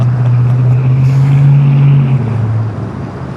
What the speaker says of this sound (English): Up next for departure is United Airlines Flight 198 headed to Shanghai, 787-9 Dreamliner